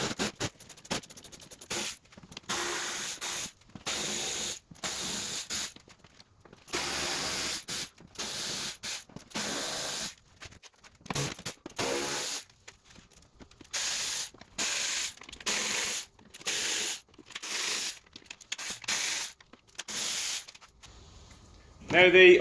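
Bolts being undone from the under tray of an Alfa Romeo Giulietta, with repeated bursts of ratcheting tool clicks broken by short pauses, close and fairly loud throughout.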